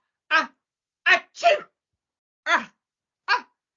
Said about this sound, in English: Achoo! Oh my goodness, the smell of all that washing powder is really tickling my nose.